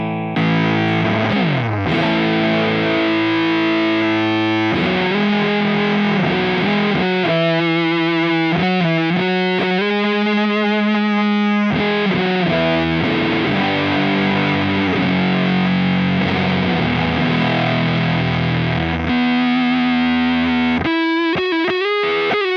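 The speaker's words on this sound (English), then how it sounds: "And of course the almighty the Black Arts, the big muff." Electric Stratocaster guitar played through a Big Muff fuzz distortion pedal into a Ceriatone Big J JP100 amp, thick sustained fuzzy chords and riffs filling the whole stretch loudly and continuously, with no talking.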